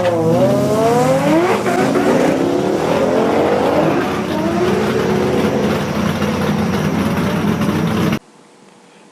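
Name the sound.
Holden Monaro drag racing launch at Heathcote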